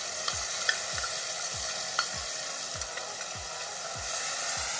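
White mustard paste and poppy seed paste frying in a pan for a fish and eggplant curry, a steady sizzle under regular spatula scrapes that tap and drag across the pan about once a second, close and alone.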